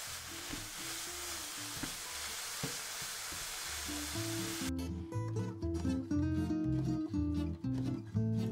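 Lean 5% fat ground beef sizzles and fries in a pan, a close steady crackle with stirring clatter, and the sizzle changes character partway through.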